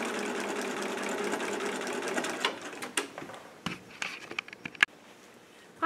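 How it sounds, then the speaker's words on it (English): A sewing machine runs steadily while topstitching along the edge of a white quilt binding, then stops, leaving scattered clicks and handling noises of the fabric. "Can you see how beautifully my top stitch is going right along the very edge there?"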